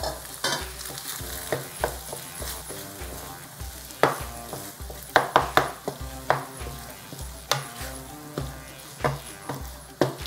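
Eggs and sauce are stirred together in a hot pan, a spatula scraping and tapping steadily against the metal over a soft sizzle, close and fairly loud with no talking.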